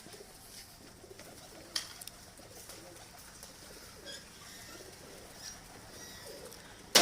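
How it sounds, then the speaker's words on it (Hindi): Out in the open during a pigeon-flying contest, Ustad Mian Hamid's fourth pigeon lands, with soft, faint cooing and light rustles against quiet background noise, ending in a brief sharp knock. "ये दोस्तों चौथा कबूतर उस्ताद मियाँ हामिद साहब का 5:34 पे बैठा"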